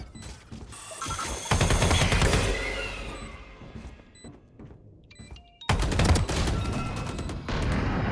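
Gunfire in the tactical shooter Valorant: dense bursts of rapid automatic shots with metallic mechanical clicks, loud and close, interrupted by a brief gap before another intense volley.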